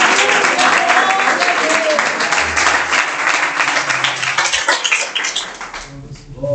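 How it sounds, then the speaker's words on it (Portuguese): A church congregation at an evangelical preaching service claps for a woman preacher, producing dense, steady applause that fills the room for about six seconds. Scattered voices mix in, and the applause thins slightly toward the end. "Receba a serva de Deus com palmas para Jesus."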